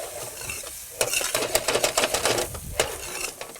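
A spoon stirs tomato and onion masala with ginger paste in a hot pan for kaju curry base gravy, making quick scraping clicks and light clatter over a soft sizzle, close and rhythmic.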